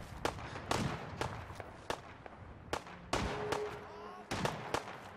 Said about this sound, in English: Oh, there's gunshots. Let's go to the gunshots, everyone!